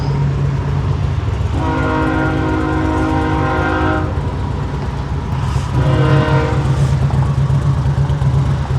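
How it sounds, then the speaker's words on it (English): A train rumbles loudly past, close by, while its horn sounds two long harmonic blasts separated by a short pause. "Obviously a train's cutting through."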